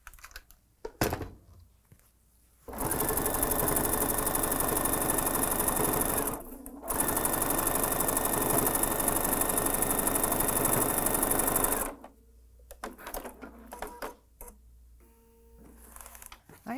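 A sewing machine top-stitches fabric for a small zippered bag in two long, steady runs of rapid needle clatter, separated by a brief pause, with quiet handling sounds before and after.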